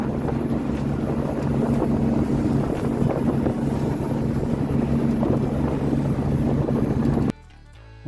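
A boat cuts across open water off the Isle of Wight, giving a loud, continuous rush of engine, hull and wind noise close to the microphone that cuts off sharply just before the end.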